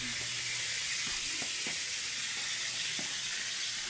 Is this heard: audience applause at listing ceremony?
no